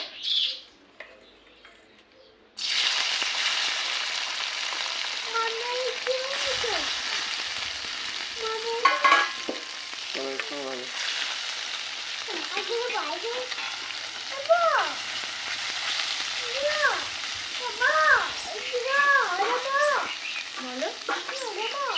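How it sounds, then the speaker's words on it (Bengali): Small mourola fish fry in mustard oil in a kadai with a steady, close, bright sizzle that starts abruptly after a short quiet lead-in. The sizzle runs on continuously while birds chirp repeatedly in the background. "এরপরে কড়াতে দিয়ে দিয়েছি সর্ষের তেল মাছটাকে প্রথমে ভেজে নেব"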